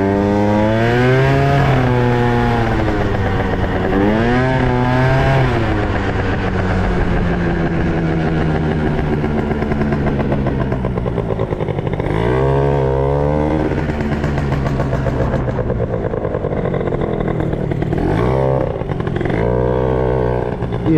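A small scooter engine revs hard and repeatedly, its loud buzzing note climbing and falling in sweeping waves throughout, close by with no talk.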